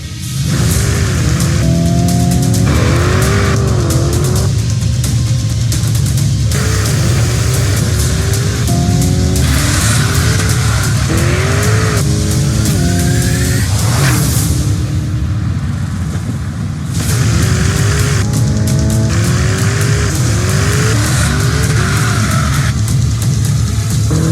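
Lamborghini Urus Performante SUV racing up the Pikes Peak hill climb, engine loud and close, revving hard and rising through repeated gear changes, with tires squealing through the corners.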